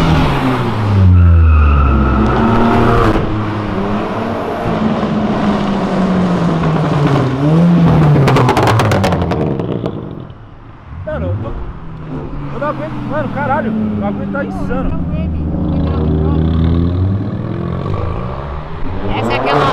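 A tuned car nicknamed 1M99 Problems revs hard and skids with squealing tires, loud and close, the engine note rising and falling in bursts while excited voices shout over it.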